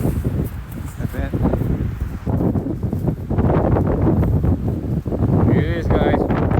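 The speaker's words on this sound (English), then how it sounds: "It's like 20 miles an hour gusty wind, maybe more." Strong winter wind of about 20 mph or more gusts across a mountainside on San Gorgonio during a windstorm. It buffets the microphone in rough, uneven bursts while people talk nearby.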